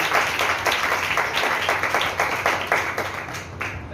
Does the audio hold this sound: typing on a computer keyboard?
no